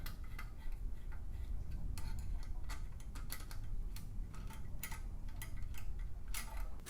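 A ratchet clicks in quick, even runs as Holley oil pan bolts on a Chevelle LS turbo build are snugged up, close and fairly quiet, with brief pauses between strokes and no talk.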